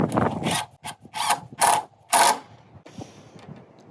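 Parts are bolted together while a ladder is built in a shed, with several short, rapid ratcheting bursts close by and a quieter stretch at the end.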